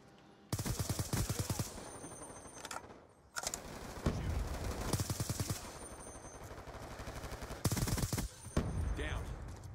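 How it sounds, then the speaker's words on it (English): Gunfire in Call of Duty Black Ops 2 comes in repeated loud bursts of rapid shots separated by short gaps. Heavier single reports that could be sniper rifles and shotguns mix in, with busy game noise between bursts. "I hear the sound of snipers and shotguns"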